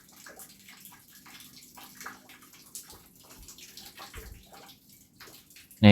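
Water trickles slowly from the outlet hose of a tiny 4 cm 12V DC mini pump lifting water about two meters, a faint, steady gurgle and patter with a louder knock at the very end.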